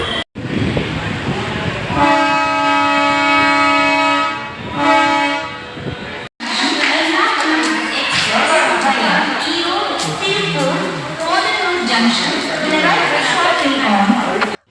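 A passenger train departs Salem railway station in the evening. A sustained, multi-tone horn sounds loudly for several seconds and then cuts off, followed by a continuous rolling rumble and clatter of the moving train.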